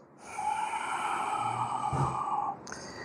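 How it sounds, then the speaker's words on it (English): A long, steady exhalation of air out of the lungs during yoga pranayama breathing, a close breathy rush lasting a couple of seconds before a brief pause and a fainter breath. "you have to exhale out all the toxic air in the lungs"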